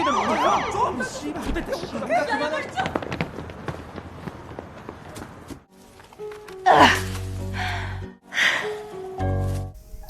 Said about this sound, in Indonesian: sirine polisi terdengar